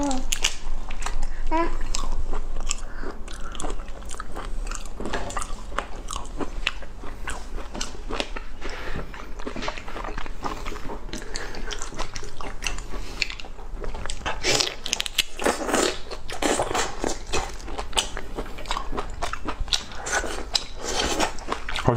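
Shrimp being eaten up close, with repeated wet bites, crunches and squishy chewing in an irregular rhythm, while a child and an adult talk briefly over the mouth sounds.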